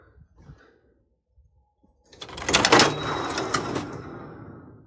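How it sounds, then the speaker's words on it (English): Door on a homestead pen or shed being pulled open, a sudden loud scraping and rattling burst after quiet, sliding and clattering for a couple of seconds close by. "I'd like to get this door open so whoever's in there can"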